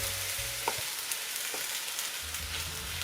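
Sticky rice fries on high heat after shiitake mushroom liquid is poured in, a steady loud hiss with a few faint stirring knocks, close and continuous.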